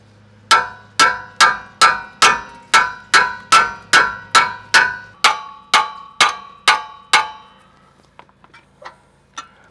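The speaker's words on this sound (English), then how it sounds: "putting a wrench on there and banging on the end of the wrench with a hammer" A hammer strikes the end of a wrench again and again to free a seized bolt on a GM truck's rear brake, about fifteen loud, evenly paced metallic clangs, then a few lighter taps.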